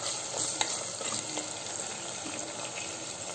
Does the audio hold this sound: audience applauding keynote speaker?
no